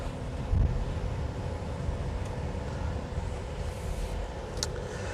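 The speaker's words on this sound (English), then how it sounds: "So today we're driving the V6, and we're just going to put it into drive, and we are going to go around the block" Steady low road and engine rumble from inside a Jeep Grand Cherokee L Summit with the V6 as it drives around the block, a continuous close drone with faint airflow and no talking.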